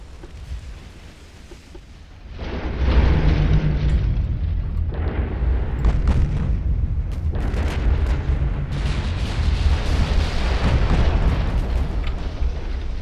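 Warship guns firing in the naval battle game Ultimate Admiral: Dreadnoughts, a loud, sustained roar of booming salvos and overlapping blasts that swells after a quieter opening and keeps rumbling to the end.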